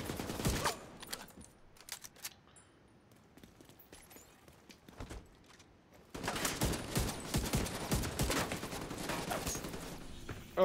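Gunfire in Tom Clancy's The Division 2, with scattered shots at first, then a dense, loud, sustained burst of rapid automatic fire in the second half.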